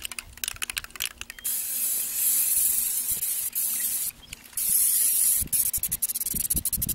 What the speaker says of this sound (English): I've got them spray painted.